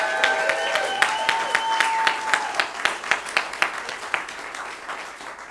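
An audience applauds performers at a show, scattered claps at first with a sung or held voice underneath, then a run of distinct, rhythmic handclaps that fade toward the end.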